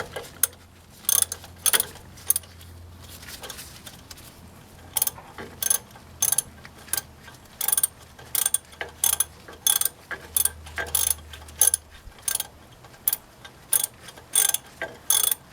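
A 3/8 inch ratchet socket wrench loosens the wheel cylinder bolts on the rear drum brake of a 1999 Jeep Cherokee, with repeated close clicking ratchet bursts in uneven runs and short pauses between them.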